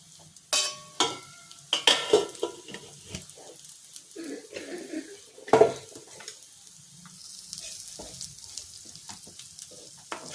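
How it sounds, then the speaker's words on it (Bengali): Chili, coriander and cumin dry-roasting in a wok: scattered scraping stirs and clinks over a soft, uneven sizzle, close by, with a couple of sharper knocks of utensil against metal. "সেরকম আমি এখানেই আশপাশেই ভেজে নিচ্ছি। একটু লঙ্কা, একটু ধনে, একটু জিরে"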